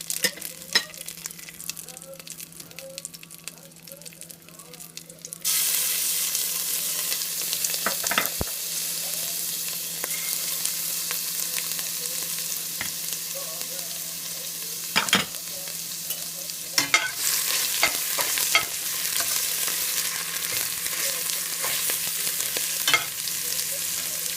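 Onions with ginger-garlic paste sauté in hot oil for a vegetable kurma, a steady sizzle that jumps louder partway through as they hit the pan, with occasional stirring scrapes and knocks.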